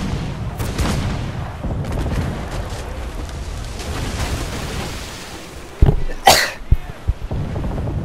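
Ship cannons fire during a naval battle in Assassin's Creed IV Black Flag: a steady rumble of ocean and combat, then sharp, loud cannon blasts cracking out in quick succession near the end.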